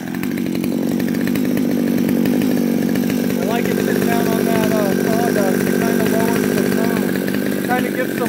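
Stihl MS200T chainsaw engine idles nearby with a steady, loud buzzing two-stroke drone that holds even throughout, while a person speaks briefly over it.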